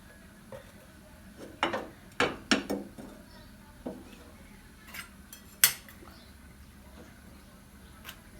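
Pots, a saucepan and metal utensils clatter in a home kitchen while cooking oil is added for chicken korma, giving scattered sharp clinks and knocks, several loud and close, between quiet stretches.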